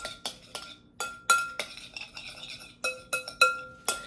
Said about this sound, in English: get a spoon, mix it